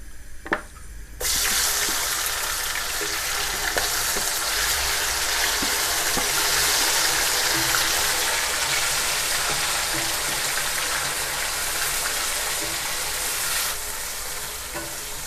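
Marinated chicken frying in a pan for Delhi-style shahi korma gives a loud, steady sizzle with a crackling hiss. A brief clink comes first, then the hiss runs unbroken and close for about twelve seconds before dropping slightly.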